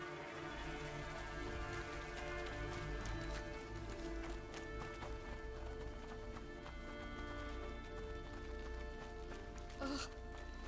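Steady clip-clop of horse hooves at a trotting pace in the video game A Plague Tale: Innocence, mixed with busy background sounds and a continuous low hum.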